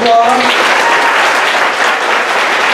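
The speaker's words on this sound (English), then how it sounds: "Please, let's give them another round of applause." At a breast cancer foundation holiday premiere gala, a crowd gives a loud round of applause, thick and continuous, while a voice sounds briefly at the start.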